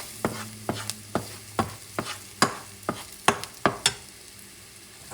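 A utensil scrapes and stirs spicy chicken with brown sugar in a hot pan, giving close, rhythmic strokes about every half second over a soft sizzle.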